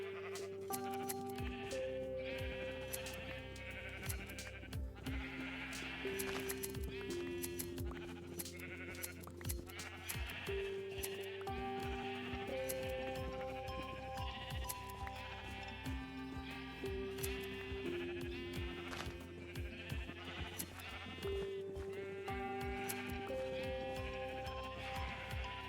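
Sheep bleat repeatedly in the Minecraft video game, their calls cutting in over steady, continuous background music throughout.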